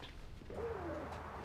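Pet pigeons give a brief, soft coo, faint and a little distant over a low background hum.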